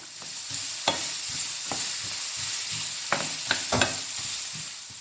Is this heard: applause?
no